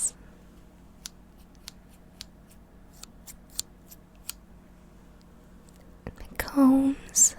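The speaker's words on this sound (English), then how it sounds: "My scissors." Metal scissors handled up close, with sparse small clicks and taps spaced across a quiet room tone, then louder rustling and a soft voice near the end.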